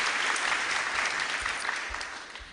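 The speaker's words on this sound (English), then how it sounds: "So I think we can give the following a round of applause." A school awards ceremony audience claps steadily in a dense, even burst of applause, with no voices heard.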